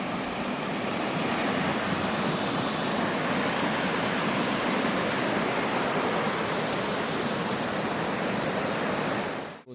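Strong, steady rush of flowing water at the Ogersland campsite in Padang Rengas, Perak, a dense, broadband roar that stays loud and unbroken throughout before cutting off abruptly at the end.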